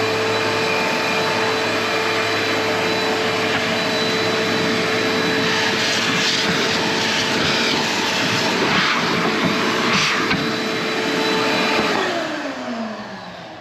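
Close up, a vacuum cleaner sucks dust out of a Ryobi table saw with a loud, steady roaring whine that rattles as debris goes up the hose, then winds down near the end.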